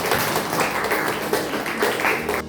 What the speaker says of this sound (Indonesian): Jadi saya akan beri aplaus untuk kalian semua